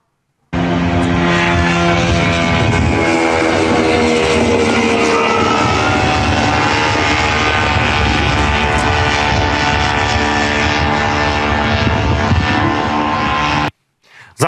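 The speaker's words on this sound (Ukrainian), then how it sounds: "Давайте послухаємо, як виглядав цей політ безпілотник супутників." An attack drone with a propeller engine flies close by, its loud, steady buzzing drone running almost unbroken for about thirteen seconds before cutting off abruptly.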